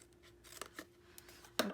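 Scissors cut a milk carton into sections up to the score line, with several quiet, separate snips spread over a short span and a sharper final cut.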